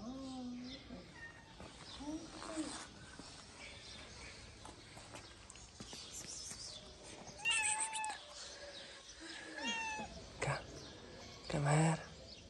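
A cat meows several times at a moderate distance, with a few louder, drawn-out meows near the end and faint background noise throughout.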